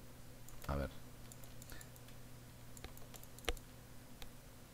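A Shift key pressed on a computer keyboard while working in the Unity 3D terrain editor: a few sharp, isolated clicks, the loudest near the start and another later, over a steady low electrical hum.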